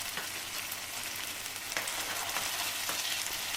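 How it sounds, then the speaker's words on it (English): Ginger and garlic paste sautes in hot oil for a spinach moong dal, producing a steady, close crackling sizzle broken by occasional stirring clicks, alone with no talk. "Saute for 2 minutes."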